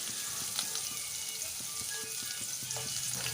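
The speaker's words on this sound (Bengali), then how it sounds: "ছোট একটা সাইজের পেঁয়াজ আমি কুচি করে রেখেছিলাম, সেটা আমি কড়াইতে দিয়ে দিচ্ছি" Chopped onion hits hot oil with panch phoron in a wok, giving a steady, close, bright sizzle with small crackles throughout.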